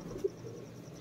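A single faint, low pigeon coo rises briefly out of a quiet background hum, then fades.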